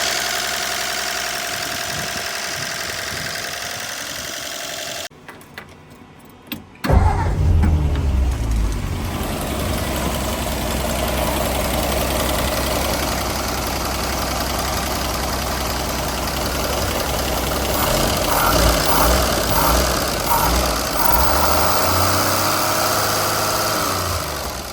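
Mercedes OM617 diesel engine fitted in a Frandee Sno Shu snowcat, with 269,000 miles on it: a quiet stretch and a few clunks, then the engine runs loudly and steadily at a knocking idle for the rest of the clip.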